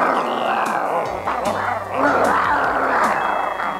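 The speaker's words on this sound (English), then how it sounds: "All those dogs against Mungo." Several cartoon dogs bark, yip and growl in a busy, overlapping scuffle, loud and close, with a rhythmic thumping underneath.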